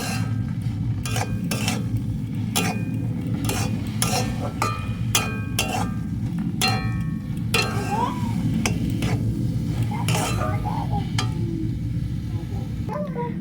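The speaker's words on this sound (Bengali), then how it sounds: "এইভাবে নাড়তে নাড়তে খুব সুন্দর করে একটি ডো তৈরি করে নেব" Semolina and raw potato dough being stirred in a pan for a crispy snack, with steady scraping and occasional utensil clinks against the pan over a continuous low rumble, fairly close.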